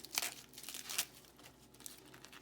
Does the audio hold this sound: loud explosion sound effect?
no